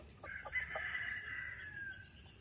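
Rhode Island Red chickens in a new breeding pen, a close, loud rooster crow rising after a few short clucks and stretching out for about two seconds.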